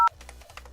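A telephone keypad dials a number for Electronic Arts, giving a quick run of short touch-tone beeps in an even rhythm, close and clear.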